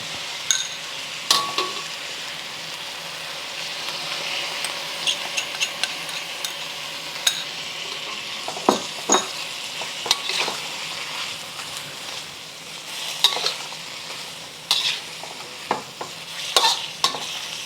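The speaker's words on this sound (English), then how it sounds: "Heat it through so that the beef cooks through." Thai basil beef stir-frying with sauce in a hot pan, a steady close sizzle broken by repeated scraping stirs and clinks of a utensil against the pan.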